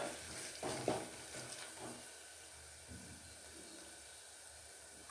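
Onions fry with turmeric powder in a pan, giving a soft steady sizzle and hiss with a few stirring scrapes near the start, faint and continuous.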